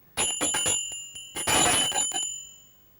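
A bell rings several times in quick succession, bright metallic strikes heard close, and the last tone is left to sustain and slowly fade away.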